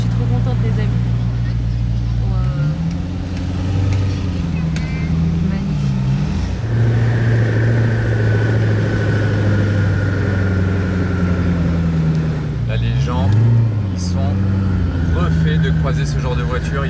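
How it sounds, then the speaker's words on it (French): A Koenigsegg supercar runs through a tunnel, its engine drone rising and falling in pitch with a sustained high whistle over it, loud and close, with voices talking over it. "Ce sifflement des Koenigsegg,"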